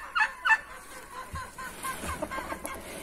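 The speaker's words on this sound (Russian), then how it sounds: "Это ее петушок." Calls from a rooster crossed with Araucana: a couple of sharp squawks near the start, then softer, scattered clucking and low murmurs through the rest.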